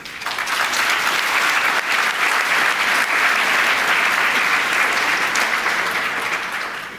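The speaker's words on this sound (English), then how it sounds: "This applause is one of the reasons why I love AJC." A large audience at the AJC Global Forum 2023 closing plenary breaks into sustained, loud applause that swells quickly and holds steady for several seconds before beginning to taper off.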